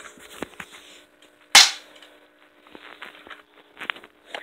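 An airsoft pistol fires a single sharp, loud crack amid faint handling clicks and rustles nearby.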